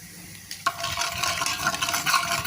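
Curry powder frying in hot oil in a pot, a sudden loud sizzle bursting in after a short quiet start and continuing as a steady, crackling hiss with stirring scrapes close by.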